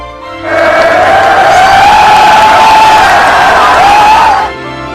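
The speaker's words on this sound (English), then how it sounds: "the Irish fans are overwhelming the American crowd" Irish fans cheer and roar as a dense crowd inside a Las Vegas arena, a loud sustained wall of shouting and whooping that swells in and holds for several seconds before cutting off.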